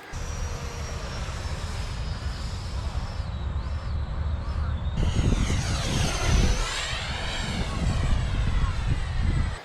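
A 6S Futura electric ducted fan RC jet flying past, a loud steady high-pitched fan whine that rises and shifts in pitch as it swoops overhead, with a rushing rumble building midway.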